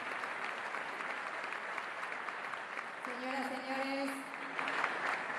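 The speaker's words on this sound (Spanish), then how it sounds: "agradecemos y despedimos con este fuerte aplauso" A dinner audience at an award ceremony for Argentine president Javier Milei breaks into sustained, dense applause throughout, while an announcer speaks over the clapping.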